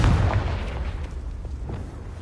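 A Confringo fire spell explodes in the Hogwarts Legacy video game, a broad rumbling boom that starts loud and decays into a sustained roar over about two seconds, with no voices.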